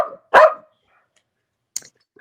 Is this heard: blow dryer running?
no